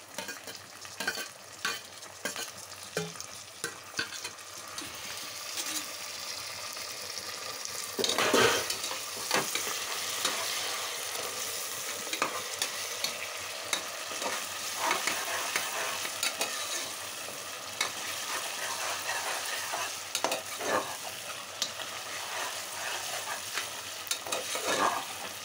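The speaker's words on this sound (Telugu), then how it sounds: "ఇందులోకి టమాటా, పచ్చిమిర్చి కూడా వేసేసి వేగనివ్వాలి 5 నిమిషాలు." Tomatoes and green chilies fry in a pan with ginger garlic paste, giving a steady sizzle with repeated close scraping stir strokes over a long stretch and no talking.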